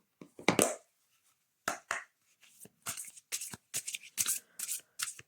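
Garance oracle cards are shuffled by hand in a quiet room, a series of crisp riffling bursts, some brief and some longer, separated by short pauses.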